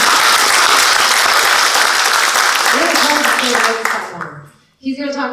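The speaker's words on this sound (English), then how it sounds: "Clap for that," A room full of attendees at a real estate expert agent panel breaks into loud, sustained applause that tapers off near the end, after which a voice begins speaking.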